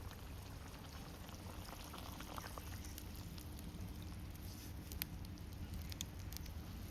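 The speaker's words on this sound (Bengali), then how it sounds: "মাছ আর ঝোল সুন্দর ফুটে গেছে" Fish and broth bubbling in a pot of Bengali pabda curry, a steady close simmer with soft irregular pops and crackles, no voices.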